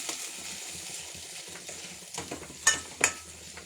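Food lightly sautéing in a pan, a soft steady sizzle with occasional stirring scrapes and two sharper utensil clinks against the pan near the end.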